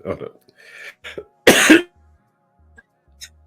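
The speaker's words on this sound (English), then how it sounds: "That's a cough, really." A single sharp, loud cough bursts out after a few soft breaths and faint mouth noises, followed by quiet.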